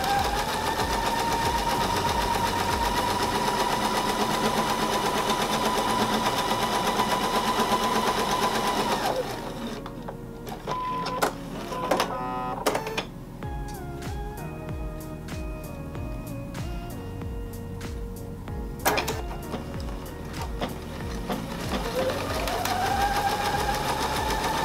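A sewing machine stitches a seam while piecing a four-pointed star quilt block, running steadily and loud for about nine seconds, then pausing with scattered clicks and handling noises before the motor whirs up again near the end.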